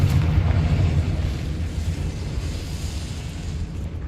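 A Confringo blasting spell from Hogwarts Legacy erupts as a deep, rumbling explosion, loudest at the start and slowly fading into a low, sustained roar over about four seconds with no talk.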